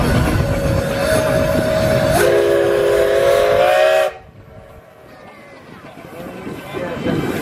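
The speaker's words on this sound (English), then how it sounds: "It's a nice whistle." A showman's steam engine whistle at a steam and vintage rally in Duncombe Park gives a loud, steady blast of about four seconds and cuts off sharply, leaving engine noise and background voices.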